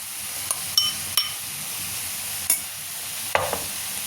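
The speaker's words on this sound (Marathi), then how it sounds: "हे पहा असं मिनिटभर टोमॅटो छान परतल्यानंतर मी त्यामध्ये बीट आणि गाजर घालणार आहे" Beetroot and carrot pieces tipped into a pan of sautéing tomatoes for soup, a steady soft sizzle broken by several sharp clinks of a utensil against the pan, close and clear.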